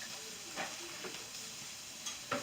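Shrimp frying in a pan give a steady, fairly quiet sizzle, broken by a few short scraping and stirring clicks as they cook, with no one speaking.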